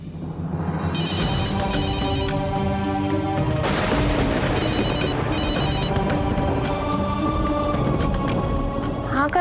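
A phone rings on and on without an answer in a TV drama, its repeating electronic tone layered over loud, dense background music with a heavy thump partway through.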